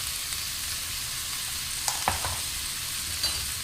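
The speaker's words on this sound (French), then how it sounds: "Je fais revenir ça une petite minute." Pork pieces softening in a pan over lowered heat give off a faint, even sizzle, with a couple of light utensil taps briefly rising above the steady hiss.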